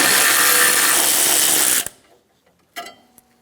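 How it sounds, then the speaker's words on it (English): A power tool loosening two 10mm bolts on the oil cooler of a GMC K1500 pickup from 1988-1999 whirs loudly and steadily for almost two seconds, stops abruptly, then gives one short burst after a brief pause. "Remove the 2 10mm bolts at the top of the oil cooler."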